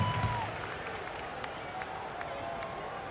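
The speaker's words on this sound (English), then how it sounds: "Give him a nice round of applause." A stadium crowd in the basketball video game NBA 2K16 applauds steadily, a broad wash of clapping that stays at a moderate level throughout, with a faint voice briefly at the start.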